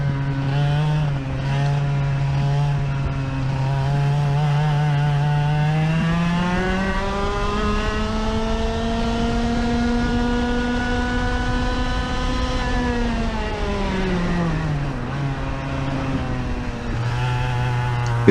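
A car engine on a race track under hard throttle stabs, with the rear end kicking out, gives a loud, steady near drone that rises in pitch, holds high, then drops back down over about eighteen seconds, with no talking.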